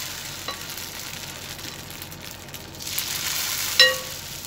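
Rice-flour vellappam batter cooks in a hot pan with a soft, steady sizzle and faint crackle, plus a brief metallic clink near the end.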